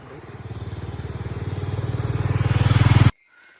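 A motorcycle labours up a steep off-road hill path to Kaalimala near Kanyakumari, its engine note rising and throbbing louder over about three seconds before cutting off abruptly.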